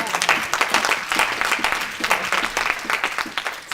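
A church congregation applauding, a dense, continuous patter of many hands clapping at moderate loudness that fills the whole stretch, with no speech over it.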